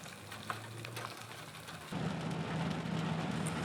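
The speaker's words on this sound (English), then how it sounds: "aided by the rain coming down all around us" Rain falls around a vehicle driving in the desert near Alice Springs, a soft patter over low road rumble that jumps to a louder, denser wash of rain noise partway through.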